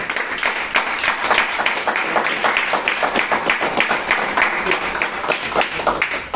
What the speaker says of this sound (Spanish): Dale fuerte palmas a Cristo.